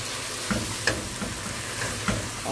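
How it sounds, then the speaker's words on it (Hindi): Fried okra and onions being gently stirred into a sizzling masala in a pan, a steady frying hiss with soft intermittent spoon scrapes and taps, close and alone. "हल्के हल्के हाथों से हम इसे मिक्स करेंगे अच्छे से"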